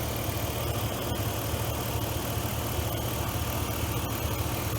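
A car engine idles steadily after its misfiring spark plugs are replaced, giving an even, close rumbling hum with fine regular pulsing and no speech.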